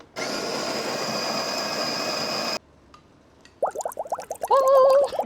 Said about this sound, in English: we put the coffee bean grinder like this and sort of direct the beans into the filter and down in the cup